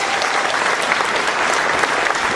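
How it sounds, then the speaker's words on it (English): Loud, dense applause fills a room for a woman introduced at a spirituality gathering, a continuous wash of many hands clapping close by with no speech over it. "How about you give her a great big round of applause?"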